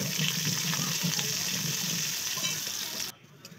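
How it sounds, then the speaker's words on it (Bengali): Potatoes fry in oil in a pan, a dense crackling sizzle with a low bubbling undertone that cuts off abruptly near the end, leaving near quiet. "আলু কটা ওই তেলেই আলু কটা কষিয়ে নেবো।"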